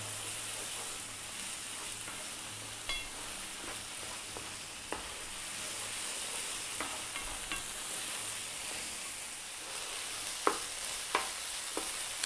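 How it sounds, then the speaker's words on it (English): Tomato paste frying in a pan for braised beef short ribs gives a steady, close sizzle throughout, with occasional light clicks and scrapes of a utensil stirring it. "We really want to cook the tomato paste out, otherwise it's going to be quite bitter."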